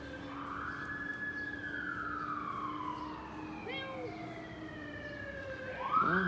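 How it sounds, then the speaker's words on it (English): An ambulance siren wails outdoors as the vehicle passes, its tone sweeping and falling in pitch with distance, moderately far off over faint street ambience. "Oh, here comes the ambulance."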